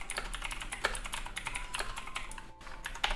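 Keys on a computer keyboard clatter in a quick, continuous run of close clicks, with a brief gap near the end and no voices.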